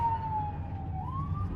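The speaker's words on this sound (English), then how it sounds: "I heard those sirens for a second and I got a little nervous." A distant siren wails with a slowly falling then rising pitch over low traffic rumble.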